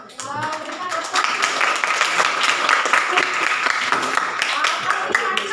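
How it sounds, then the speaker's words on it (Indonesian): Classroom audience applause for a group's poster presentation, a steady burst of many hands clapping at close range after a brief quieter start, with voices mixed faintly in the background. "Berikan tepuk"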